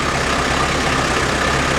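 A farm tractor engine runs at 2,500 RPM, a steady loud continuous drone with a low rumble and no change in pitch, heard alone without talk.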